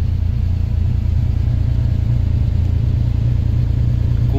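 A 1988 Lamborghini Countach engine runs during a test drive, a loud, steady low rumble from inside the car, continuous with no change in pitch and no talking.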